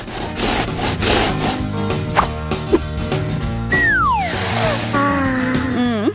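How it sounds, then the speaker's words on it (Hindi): Food is sliced in half with a rough, saw-like cutting sound that repeats over a busy bed of music, tonal sound effects and sliding whistles, all fairly loud and continuous. "इसे आधे में काटती हूँ कि खाने में आसान हो।"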